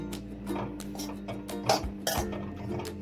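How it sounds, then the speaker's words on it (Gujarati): Date paste (mava) roasting in ghee in a kadai over a low flame, heard as close, irregular scraping, tapping and clinking of a spoon against the metal pan, with no speech. "ધીમા ગેસે સરસ માવાને શેકી લઈએ"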